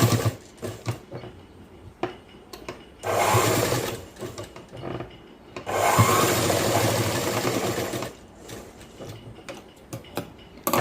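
Sewing machine stitching a boys' school uniform shirt, bursts of rapid mechanical clatter lasting a few seconds each, separated by quieter pauses with faint ticks and handling of fabric, close by.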